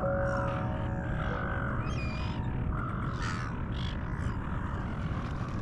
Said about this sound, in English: The sound of those gulls, that's the sound of my childhood.